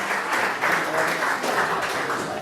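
A crowd claps together at an end-of-season awards night, a short, steady burst of applause heard alone at close range.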